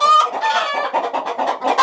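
Several agitated hens cluck loudly and continuously in a coop, a dense overlapping chorus of squawks and short calls with no pauses.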